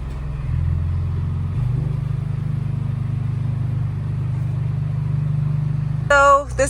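A Ford Raptor Bronco's engine drones steadily at low pitch on a road, rising briefly as it accelerates, then a sharp rattling burst near the end.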